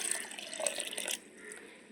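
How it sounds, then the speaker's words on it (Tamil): Strained grape water is poured into a blender jar in a short splashing trickle that breaks off partway through, followed by quieter dribbles. "இப்போ நம்ம வடிகட்டி வச்ச கிரேப்ஸ் தண்ணியும் ஊற்றிடலாம்."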